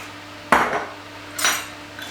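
Cashews tossed with a little oil in a bowl, roasting prep for a vegan grazing board: two short scraping, clattering bursts of utensil against bowl, separated by quieter pauses, with a faint third touch at the end.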